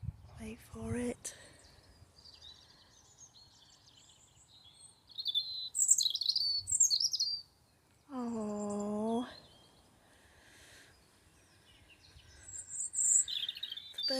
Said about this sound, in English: oh, listen to that robin.